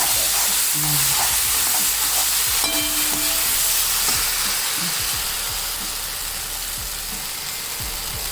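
Mango rice being stirred in a frying pan, with steady sizzling and frying hiss and scattered scraping stir strokes throughout, fairly close and loud with no talking.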